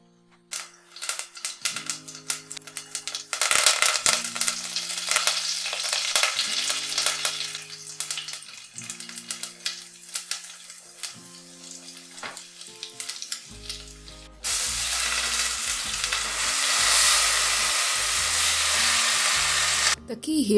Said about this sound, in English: Once the mustard seeds splutter, I add the spices, then mix in the apples and salt.